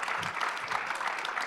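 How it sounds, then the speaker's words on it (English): A conference audience breaks into continuous, close applause to welcome President Lech Wałęsa, a dense, even patter of many hands from start to finish. "Tak, brawa, proszę Państwa."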